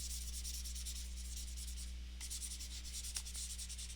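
A board is wiped clean during a geometry lesson, with steady soft rubbing strokes in quick rhythmic passes, close and moderately quiet over a low hum.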